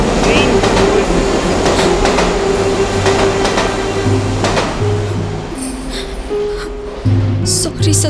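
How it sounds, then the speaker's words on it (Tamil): A train departing, heard as a steady loud rumble with sustained mechanical tones and clanking, continuous throughout with a faint voice or two mixed beneath the noise. "ட்ரெயின் வேற கிளம்பிடுச்சு"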